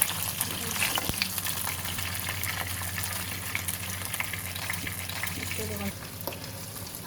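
Pabda fish frying in oil in a pan, giving a continuous close sizzle with faint crackles and occasional stirring clinks, and a little background noise beneath.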